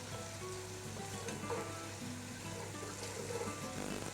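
Thin ginger slices fry in a pan with a soft, even sizzle, faint and continuous, with small crackles now and then.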